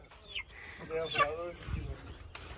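A hen squawks and clucks in agitated bursts as it is being caught, fairly close, with scuffling and a voice mixed in.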